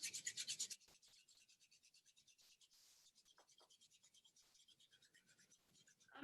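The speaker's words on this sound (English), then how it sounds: "rub your palms together" Palms rubbing briskly together in a quiet room, a short burst of quick dry swishing strokes at the start, then near silence with a faint hiss and a brief louder rustle at the very end.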